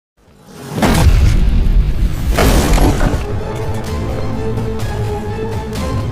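Cannon fire from a ship in a sea battle: two heavy booming blasts about a second and a half apart, each with a sharp crack and crashing debris, followed by a lingering rumbling roar.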